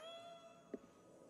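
A cat meows once in Ghostwire: Tokyo, a short, faint mew standing out against a quiet background of steady tonal ambience.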